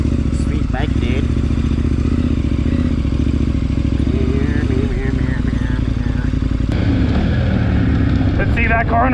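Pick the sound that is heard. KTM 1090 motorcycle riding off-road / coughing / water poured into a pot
KTM 1090 motorcycle riding off-road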